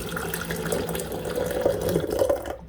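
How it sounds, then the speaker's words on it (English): Hot water pours from a kettle into green matcha syrup, a steady close trickle and splash lasting a few seconds before cutting off. "Next, add about 1 to 2 ounces of hot water."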